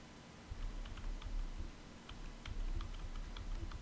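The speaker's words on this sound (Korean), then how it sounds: "F5번 누르시고 왼쪽, F5번 눌러서 왼쪽," Computer keyboard keys pressed in a short irregular burst of light taps, including F5 and arrow keys, close and moderately quiet with no talk over them.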